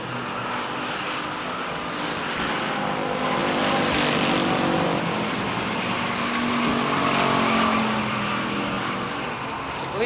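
Race cars roar around the Waterford Speedbowl oval during a 1993 stock car race, making a dense, continuous engine drone that swells and fades as the pack passes.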